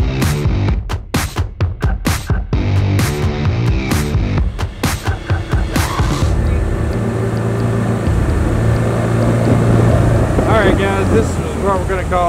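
A fishing boat's outboard motor runs on the water, a loud steady drone with rushing wind and water; a person talks over it early on.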